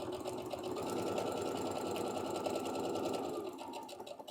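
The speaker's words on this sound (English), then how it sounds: "we're going to sew a 1/4 inch" A home sewing machine fitted with a quarter-inch quilting foot and guide runs a straight seam through thrifted fabric swatches, a steady rapid mechanical whirr with fine ticking that holds evenly and then eases off near the end.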